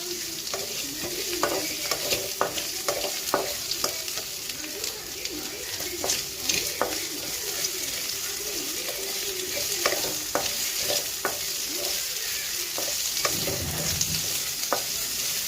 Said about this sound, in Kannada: ಈರುಳ್ಳಿ ಒಂದು ನಿಮಿಷದಷ್ಟು ಫ್ರೈ ಮಾಡಿಕೊಂಡ್ರೆ ಅದು ಒಳ್ಳೆ ಟ್ರಾನ್ಸ್ಪರೆಂಟಾಗಿ ಬದಲಾಗುತ್ತದು.